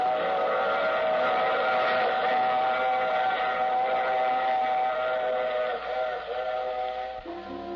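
A train whistle sounds over the steady rumble of a rolling train in an old radio drama, a continuous loud tone that holds for several seconds before the mix shifts.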